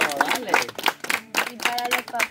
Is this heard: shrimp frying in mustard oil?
no